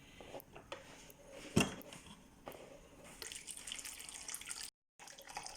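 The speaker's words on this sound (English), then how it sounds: "Then you first drain the water dispenser." Water drains and trickles from the dispenser of a Hisense H410BS fridge, with uneven splashes and drips, one louder splash, then a brief break before the flow resumes.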